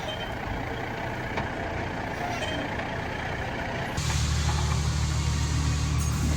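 Peterbilt 379 truck running roughly before a breakdown, a steady mechanical engine drone that suddenly grows louder and heavier partway through, with a deep low rumble taking over the second half.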